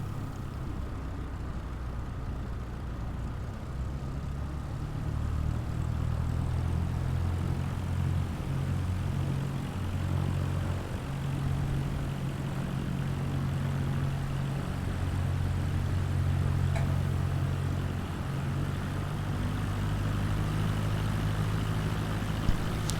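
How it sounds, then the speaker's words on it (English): Simulated aircraft engine droning steadily as a plane taxis with heavy throttle in Microsoft Flight Simulator 2020, a low continuous hum that rises slightly in strength partway through and holds near and loud to the end. "Takes an awful lot of throttle to get taxiing here."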